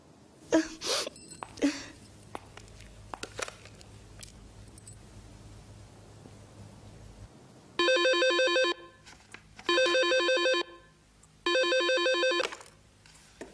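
A telephone rings in three loud, regular electronic bursts during a phone call scene, following a stretch of quiet rustling and a few brief sharp sounds.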